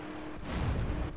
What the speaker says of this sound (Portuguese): Quanta explosão.